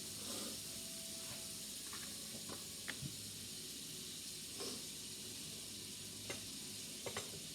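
Three tablespoons of butter melting in a pan over moderate heat give a soft, steady sizzle and hiss, with a few light utensil taps and clinks now and then.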